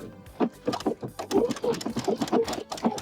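A domestic sewing machine with an open toe presser foot stitching on trim, giving a steady, close rhythmic whirring and thumping in short runs with brief stops between them.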